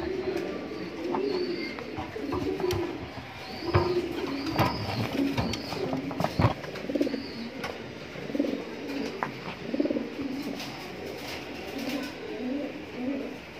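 A male grizzle racing pigeon sits in a clay nesting pot and coos in repeated low, throaty phrases, close and fairly steady, with other birds calling faintly in the loft behind.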